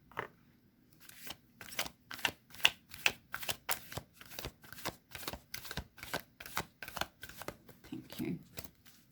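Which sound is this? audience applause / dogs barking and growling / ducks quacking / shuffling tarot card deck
shuffling tarot card deck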